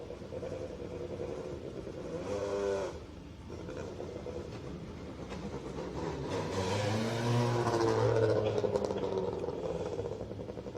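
A rally car leaves the start podium at a Côte d'Azur rally, its engine revving and rising in pitch, loud and fairly close over crowd and a commentator's voice.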